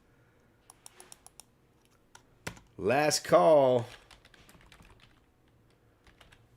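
Light, scattered clicks of typing on a computer keyboard stay faint and intermittent, with a brief burst of speech in the middle.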